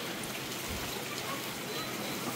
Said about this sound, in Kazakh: Мына туғандар жаңбыр.